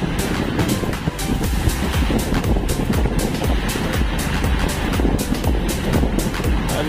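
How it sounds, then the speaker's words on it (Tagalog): Waves slap against a boat travelling on open water toward Pinagagan, sounding as heavy, continuous low-end rumble and wash with repeated thuds from the hull, loud and close, with no talking. "Bugbog sa kahampas ng alon."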